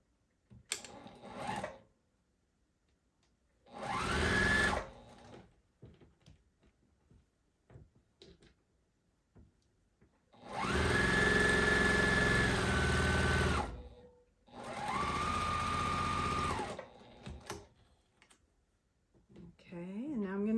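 Short bursts of a sewing machine stitching across the top of a quilt block come in separate runs of a few seconds each, close and fairly loud, with quiet gaps and soft handling noises between them.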